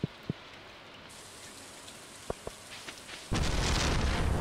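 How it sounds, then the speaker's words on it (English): Rain falls in the farming video game Artisan Valley: after a near-silent stretch broken by a few soft clicks, a loud, dense wash of rain abruptly swells in and keeps going. "It's raining."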